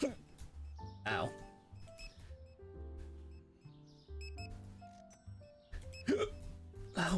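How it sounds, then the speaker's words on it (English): Several sharp hiccups, spaced a few seconds apart, rise above game music and beeping electronic tones, with a person's vocal sounds mixed in nearby. "why do I have the hiccups all of a sudden?"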